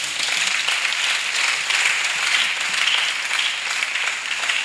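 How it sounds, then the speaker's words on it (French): A congregation applauding to acclaim the Lord at a church gathering for spiritual and financial preparation, steady dense clapping from many hands filling the room, sustained and fairly loud throughout. "Est-ce qu'on peut acclamer le Seigneur?"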